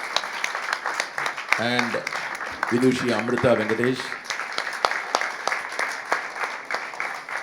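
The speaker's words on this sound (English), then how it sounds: "First of all, a big round of applause" Audience clapping after a lecture demonstration by Prince Rama Varma and Amrutha Venkatesh continues steadily in the background while someone speaks over it.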